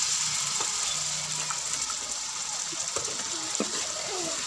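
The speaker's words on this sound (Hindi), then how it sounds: "अब हम इसमें थोड़ा सा पानी डालेंगे" Water pours into a cooking pan of village-style aloo matar seasoned with turmeric, a steady gushing, splashing stream that runs for several seconds at moderate loudness with no talking over it.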